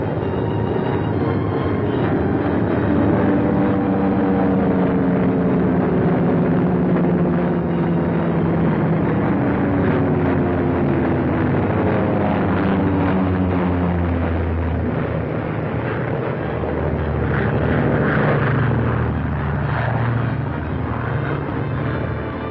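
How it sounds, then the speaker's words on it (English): Several bomber aircraft returning to a military airfield in the Aleutians, a continuous loud droning engine roar with shifting tones as planes circle and come in to land, steady throughout with no talk. "Bombers went out, and 6 are coming back."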